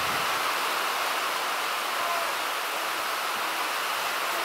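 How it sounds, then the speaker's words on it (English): Dense, steady hiss of heavy rain pouring down, loud and unbroken throughout. "as you can probably hear, it's pouring rain"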